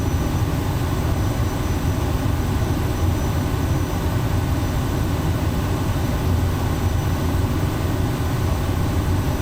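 Kodiak turboprop aircraft engine in Microsoft Flight Simulator 2024, taxiing on a bumpy taxiway: a loud, continuous low rumbling drone that stays steady and close for the whole stretch, without talk.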